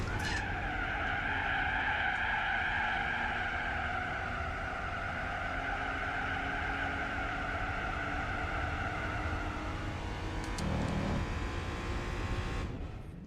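Race car tires squealing and skidding through a corner in Gran Turismo 4, a loud sustained wavering screech over steady engine noise that holds for most of the stretch before easing off near the end.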